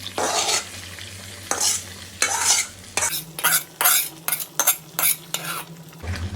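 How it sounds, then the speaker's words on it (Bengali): Onion paste and beef or goat trotters fry and sizzle in a wok for nihari while a utensil stirs them, giving repeated scraping, clattering strokes over a steady sizzle, close and fairly loud. "এখন এগুলো নেড়ে করে মিশিয়ে দেবো"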